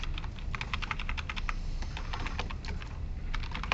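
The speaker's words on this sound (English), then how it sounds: "I'll type that in as a comment." Rapid, quiet keystrokes on a computer keyboard in a lecture setting, a steady stream of light clicks with brief pauses, close and alone.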